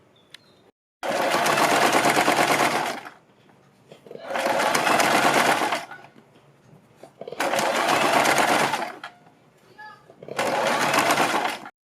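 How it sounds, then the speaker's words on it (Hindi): A sewing machine runs in four long bursts, stitching over a strip of fabric. Each loud, steady whir lasts about two seconds, with short quiet pauses between runs. "एक सिलाई हम यहाँ पर लगाएंगे इस पट्टी के ऊपर"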